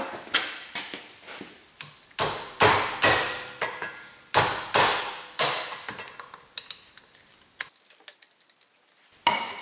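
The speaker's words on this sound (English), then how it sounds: "Just going to give my wrench a little love tap to break the bolts free." A hammer taps on a wrench to break staked U-joint bolts free on a Honda CR-V: a dozen or so sharp metallic strikes in an uneven rhythm, close and ringing, spaced out then trailing into lighter ticks.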